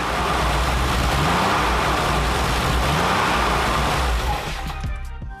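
A Porsche 993 air-cooled 3.6-liter six-cylinder boxer engine fitted in a vintage Karmann Ghia makes a loud, steady roar that holds strong before easing off near the end.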